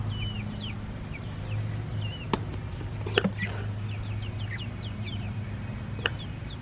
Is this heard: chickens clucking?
yes